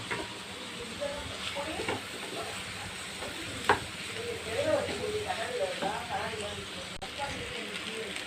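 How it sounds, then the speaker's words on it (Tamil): Mixed vegetables for cutlets, including potato, cabbage and beans, sauté in hot oil with a steady sizzle and occasional stirring scrapes, a voice talking over the cooking throughout. "எண்ணெயிலே இது கொஞ்சம் நேரம் நல்லா வதங்க விடுங்க."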